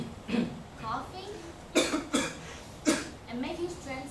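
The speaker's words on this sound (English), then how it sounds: "coughing," A person coughs in several short, sharp bursts with a throat-clearing quality, spaced irregularly over a few seconds and heard up close.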